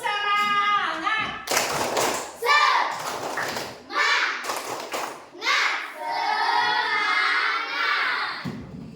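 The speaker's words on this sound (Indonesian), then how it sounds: "Jadi sekarang kita sudah tepuk semangat." A primary school class does the rhythmic 'tepuk semangat' spirit clap, bursts of children's hand claps and chanting voices alternating with a teacher talking in the room.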